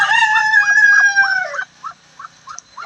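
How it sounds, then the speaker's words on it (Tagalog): A rooster crows loudly and close, a long drawn-out call, followed by a few short clucks. "yung mga manok ko"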